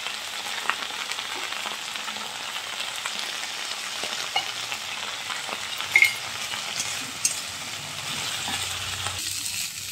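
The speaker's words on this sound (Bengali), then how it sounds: "এবার এটা ভালো করে আমি ভাজবো" Chopped kharkol leaves fry with salt and turmeric in a pan, giving a steady close sizzle with occasional light clinks and scrapes of a stirring utensil, and no one talking.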